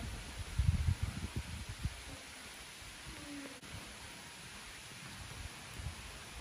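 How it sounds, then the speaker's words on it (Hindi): Light afternoon drizzle falling as a steady soft hiss of rain, with some louder low rumbles and knocks early on, no voices. "दोपहर से बारिश शुरू हुई है हल्की हल्की सी बूंदा बांदी"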